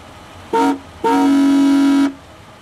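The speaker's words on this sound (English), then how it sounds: "Indeed, the Reatta has the horn of a truck, or maybe a cruise ship." Horn of a 1980s Buick Reatta, deep and truck-like: a short loud blast followed by a second, much longer sustained honk of about a second, sounding clear with no talk.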